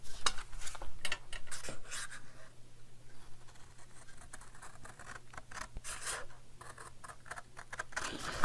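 Material is cut off close by in a series of uneven scratchy snips and scraping strokes that run on and off, fairly faint, with no talking.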